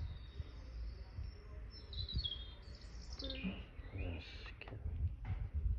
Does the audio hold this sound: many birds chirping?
yes